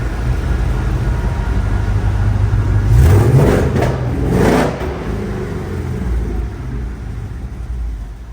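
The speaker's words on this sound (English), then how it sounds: "Let's give it a couple revs." A 1972 Ford F250 Highboy 4x4 restomod crew cab truck idles with a deep, steady rumble, then is revved twice in quick succession, each rev rising and falling close by before settling back to idle, with no speech.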